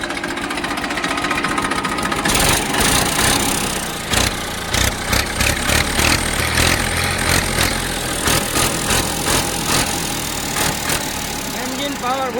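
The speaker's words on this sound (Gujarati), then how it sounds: "Engine powerful." A tractor with original paint and a sound, leak-free engine idles steadily, a continuous mid-low rumble with faint rhythmic pulsing while someone talks over it throughout.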